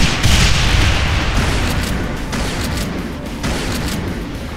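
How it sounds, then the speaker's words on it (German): A big explosion in the Brutal Doom video game, a loud rumbling boom right at the start that rolls on with debris-like crackle and slowly fades, with a few fainter pops trailing after. "war das gerade eine Explosion"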